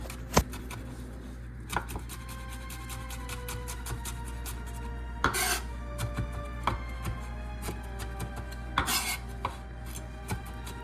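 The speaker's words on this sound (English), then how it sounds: "Buddha gracefully begins to mince the garlic." A kitchen knife minces garlic on a cutting board for spaghetti sauce, making a run of sharp, close, irregular chops and taps on the board with brief pauses between bursts.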